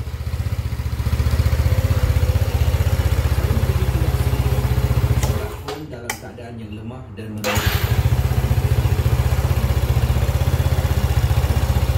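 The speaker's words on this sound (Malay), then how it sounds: "motor dah hidup" A Yamaha Nouvo S motorcycle engine idling close by in a steady low chugging rhythm, briefly dropping out mid-way before resuming, with someone talking over it.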